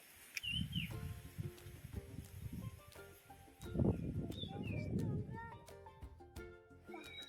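Scattered bird chirps and short whistled calls ring out over a low, busy background with murmuring voices, on a hillside near a village.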